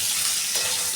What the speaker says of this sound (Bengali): আমি হালকা করে এই আলুটাকে ভেজে নেব।